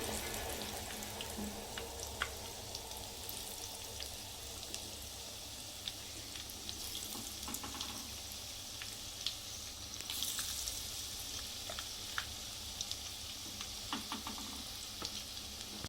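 Vadas for vada pav fry in hot oil with a steady, close sizzle and bubbling. Occasional small pops and clinks punctuate it, and no one speaks.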